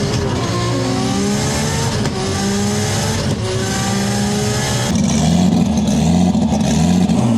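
Loud, close, high-revving 2.6-litre RB26 engine in a 1500-horsepower R34 Skyline drag build, screaming through rising revs with repeated climbs and a steady roar.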